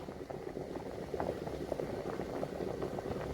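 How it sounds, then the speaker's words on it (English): Lentils boil in a pot with a continuous low, close bubbling and gurgling, heard quietly and alone. "Now they are ready because they've bubbled."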